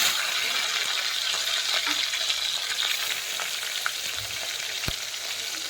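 Garlic, curry leaves and green chilies fry in hot oil for a home-style dal tempering, giving a loud, steady, close-up sizzle that crackles on without pause and with no voices.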